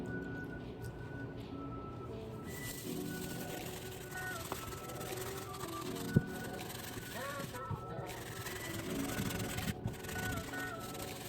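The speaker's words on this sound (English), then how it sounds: "We're gonna start with the soft bristle brush." Soft bristle brush scrubbing a Jordan 12 Gym Red sneaker, continuous close rubbing strokes with occasional small knocks of handling.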